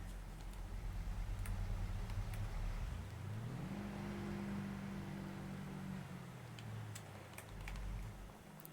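Car driving in Farming Simulator 22, a steady engine hum that rises in pitch as it accelerates, holds, then drops back, with faint ticking clicks over the top.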